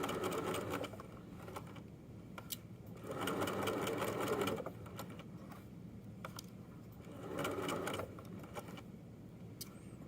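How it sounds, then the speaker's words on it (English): A sewing machine runs along a scrunchie seam with an eighth-inch allowance, whirring in steady bursts that pause and restart several times, close and fairly quiet with no talking. "So I'm going to sew around this. I'll take out pins as I go."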